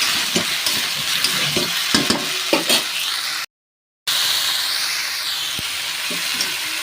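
A curry of duck eggs, cauliflower and new potatoes being sautéed in a pan: loud, close sizzling with rhythmic scraping stirs, a sudden gap of silence, then a steadier hissing fry.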